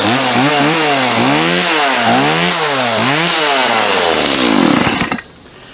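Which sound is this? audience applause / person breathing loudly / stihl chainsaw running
stihl chainsaw running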